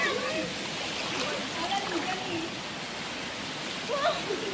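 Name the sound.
stream water flowing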